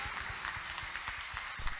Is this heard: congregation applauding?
yes